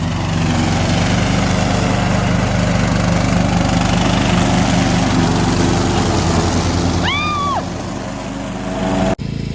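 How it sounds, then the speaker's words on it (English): A steady, loud riding lawn mower engine drones close by with a low rumble while collecting leaves, and a short whistle-like chirp near the end. "my son absolutely loves riding the lawnmower"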